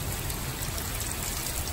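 Rain falls at home in a dense, even patter, a steady close hiss with no voices.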